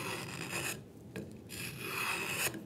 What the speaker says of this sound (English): I bring the spoke shave along this side at 45 degrees and just make it nice and angled